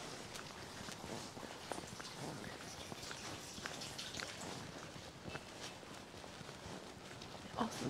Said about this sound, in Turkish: hava kapalı, yağmur yağıyor ama olsun